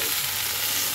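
Fried potatoes sautéing in spiced masala with desi rooster chicken, giving a steady, close, unbroken sizzle with no voices.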